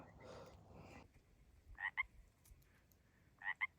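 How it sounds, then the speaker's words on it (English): Faint Pacific tree frog calls at night come as two brief double-note croaks spaced well apart, over low background hiss and a soft rustle at the start. "This is our friend, Mr. Pacific Tree Frog."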